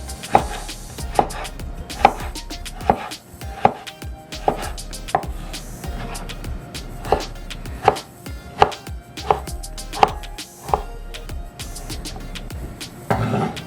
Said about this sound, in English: Then I slice it down. I like to slice it like this.